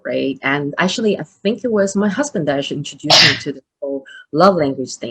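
Someone talks steadily and then breaks off for a single sharp, explosive sneeze in the middle, before her speech resumes.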